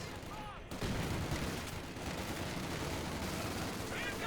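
Rapid rifle and machine-gun bursts crackle continuously in a Company of Heroes battle, a dense fusillade with booming undertones after a sharp opening thud, fairly loud, with a voice speaking over the fighting.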